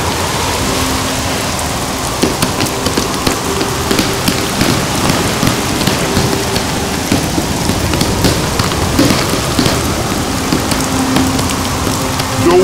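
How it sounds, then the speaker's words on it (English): Heavy storm rain lashes the sea in an animated story, a loud, unbroken downpour with dense pattering and scattered sharper splashes throughout, no voices. "another ship was crossing the sea to Asia Minor when a terrible storm arose."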